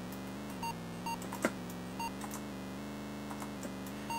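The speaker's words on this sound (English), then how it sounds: "A little beep is heard every time you pass a car," Short electronic beeps from an Atari homebrew racing game sound each time a car is passed, repeating at irregular intervals over a steady buzzing engine drone, quiet overall.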